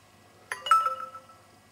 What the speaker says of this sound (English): Oh, email's just come through.